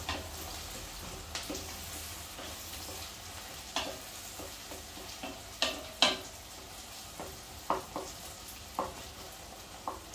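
Onion and garlic fry together in a pan, giving a low steady sizzle with scattered clicks and scrapes as they are stirred, heard close and alone at moderate volume.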